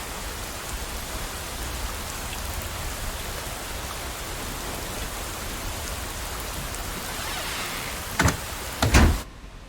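Steady heavy rain, a dense, even hiss that fills the whole scene without letup, with a couple of brief knocks or door-like clatters near the end.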